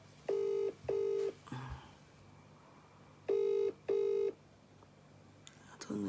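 Two pairs of long ringback tones pulse on a phone line while someone is being called, each burst steady and clear, with a stretch of quiet line noise between the pairs and a faint click near the end.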